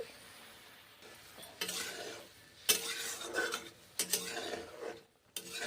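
Gobindobhog rice with turmeric being stirred in a hot pan: scraping spoon strokes in uneven bursts over a soft, steady sizzle, close and fairly quiet with short pauses between stirs.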